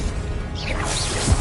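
Spell casting in the Hogwarts Legacy video game, a dense wash of magical whooshes, rising swishes and a thudding impact layered close together over a constant game background.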